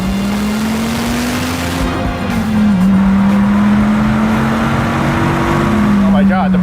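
A Dodge Viper's 8.4-liter V10 drones steadily and loudly while driving, holding a fairly even pitch with small rises and dips, and a voice is heard briefly over it.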